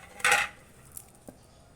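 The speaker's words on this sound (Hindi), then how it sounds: "चीनी को मिक्स करना है जब तक चीनी मिक्स ना हो जाए।" A spoon stirs sugar into basil seed sharbat, making one bright metallic clink against the glass followed by a couple of faint taps.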